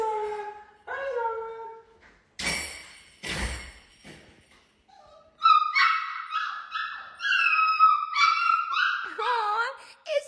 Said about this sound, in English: What our puppy does when my husband leaves.